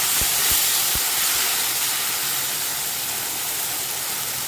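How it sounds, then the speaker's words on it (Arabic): Vinegar poured onto golden garlic frying in a hot pan, a loud sudden hissing sizzle right up close that fades slowly, with a few knocks at the start and no talk. "بس اللون بقى جولدن، هنزل كده بقى بالخل"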